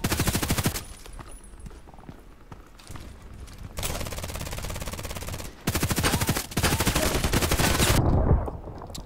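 Rapid bursts of automatic gunfire from the Contract Wars first-person shooter game, loud and close. Sharp volleys are broken by brief lulls, and the firing grows dense again toward the end.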